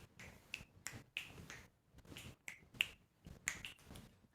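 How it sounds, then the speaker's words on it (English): A series of sharp finger snaps, roughly eight of them at a fairly steady rhythm, crisp and close, with no talking. "Do a little finger snap."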